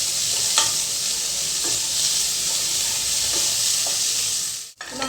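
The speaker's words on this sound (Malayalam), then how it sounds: "ഇത് നന്നായി ഒന്ന് വഴറ്റിയെടുക്കും." Onions sautéing in a pan give a loud, steady sizzle with faint stirring scrapes throughout, breaking off briefly near the end.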